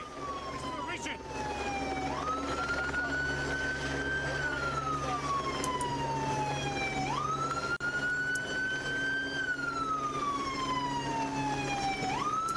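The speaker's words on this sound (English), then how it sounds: "Somebody turn the siren off." Police car siren wailing loud and close in long rising and falling sweeps that repeat without a break, over a steady low vehicle rumble at a chaotic roadside police scene.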